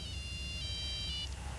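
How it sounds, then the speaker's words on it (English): Phone ringtone in the video game Max Payne, a faint electronic trilling tone with repeated steady pitched notes over a low background hum, no speech. "Nice ringtone."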